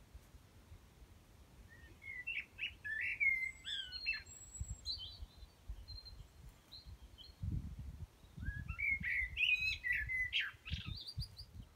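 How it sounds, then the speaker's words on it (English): A blackbird sings in managed woodland at Brockhill Coppice, Colwall, with two bursts of fluting, warbling phrases a few seconds apart, moderately distant, over a low rustle of background noise. "there's a blackbird serenading us"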